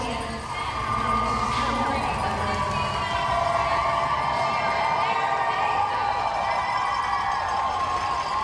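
A large crowd cheers and applauds at the start of the 2023 Boston Marathon in Hopkinton, a loud continuous roar of whoops and shouts over the full stretch.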